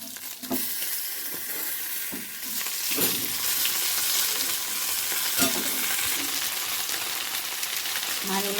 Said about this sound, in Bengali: এবার এগুলোকে আমি লাল লাল করে ভেজে নেব